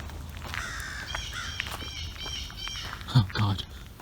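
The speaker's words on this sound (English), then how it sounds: "Those crows have been following me" Crows cawing along an outdoor nature trail, a few harsh calls rising near the end over steady wind and ambient noise while someone talks.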